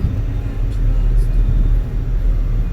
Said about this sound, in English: you hear my air conditioner in my car